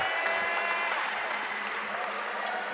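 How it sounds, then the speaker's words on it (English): Dense crowd roar fills a men's basketball championship gym, a steady wash of voices and clapping chanting for defense, loud and sustained throughout with no clear pauses. "you hear the crowd chanting for defense"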